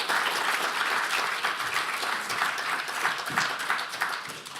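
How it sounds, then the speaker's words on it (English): Audience applause for the interpreters at a sustainable livestock conference meeting, a steady, dense clapping that holds for several seconds at moderate level with no talk over it. "Maybe a hand of applause because they're right here with us."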